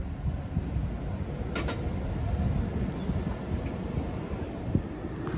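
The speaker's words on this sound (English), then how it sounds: "And arriving now is the 1626 Transport for Rail service from Redar to Corriton" A Transport for Wales train pulls into Cardiff Queen Street station with a steady low rumble of wheels and motors, wind buffeting the microphone, and a brief high squeal from the rails partway through.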